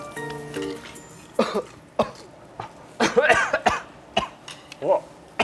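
Several sharp, close coughs break out in irregular bursts, with throat-clearing between them and a few brief tones at the start.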